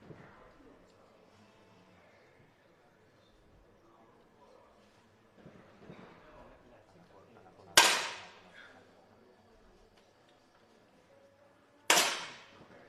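Two sharp, distinct 10m air rifle shots in a visually impaired para shooting championship final, each a crisp crack with a short decay, spaced several seconds apart in a quiet hall with faint background murmur and talk.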